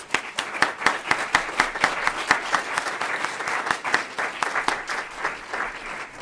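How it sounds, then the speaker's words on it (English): An audience at a Democratic town meeting nominating caucus in Burlington gives the candidates a round of applause, a sustained crowd of hands clapping at steady volume with sharp individual claps standing out. "Please, let's give them another round of applause."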